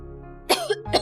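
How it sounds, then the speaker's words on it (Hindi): A small baby coughs twice in quick succession, close and fairly loud, with short sharp bursts separated by a brief pause. "खांसी क्यों हो गई इसको?"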